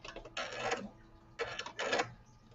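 A sewing machine runs in two short bursts of stitching with back stitching, each burst lasting about half a second, faint and close with brief pauses between and no talking.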